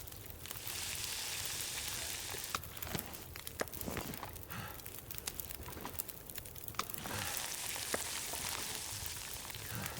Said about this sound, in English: Sounds so good, all that sizzling.